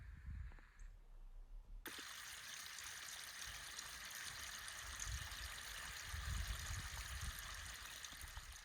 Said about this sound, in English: here's a quick look at Lynn Creek, which runs behind the Spokane Mound site.